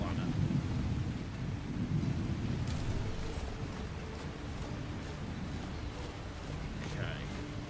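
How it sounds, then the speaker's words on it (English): Thunderstorm in the video game Lightyear Frontier: a steady low rumble of thunder with rain and wind noise running throughout, fairly loud and continuous, with a voice talking over it. "First time seeing a thunderstorm on this planet."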